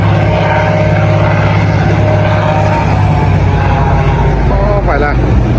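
An airboat's propeller and engine roar loud and steady at close range on water, with a constant droning hum and a faint voice briefly underneath.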